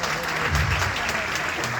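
An audience applauds at a motivational talk, producing dense, continuous clapping that fills the short moment at a fairly loud, close level.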